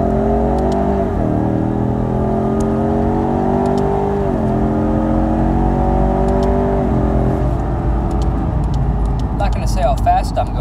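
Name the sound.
2018 Ford Mustang EcoBoost 10-speed automatic accelerating, gear changes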